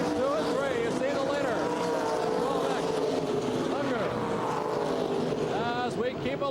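World of Outlaws sprint cars race at Oklahoma City in 1983, several engines howling and sweeping up and down in pitch as they pass through the turns, with an announcer talking over the continuous roar.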